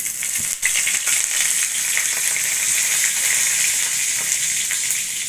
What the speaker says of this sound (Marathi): तर आपण 2 टेबलस्पून तूप टाकले कढईमध्ये, 1 टीस्पून आपण जिरं घेतलंय, जिरं टाकलं, कढीपत्त्याची 5-6 पानं टाकली